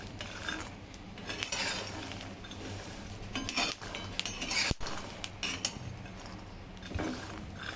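Peanuts roasting in a dry pan, with scattered crackles and pops along with scraping and clinking of a stirring utensil against the metal, close and moderately loud.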